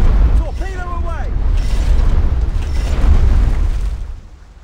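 Shell explosions during a naval battle in the War Thunder Mobile video game: loud, deep rumbling booms that roll continuously, with brief warbling tonal sweeps early on, then fade at the end.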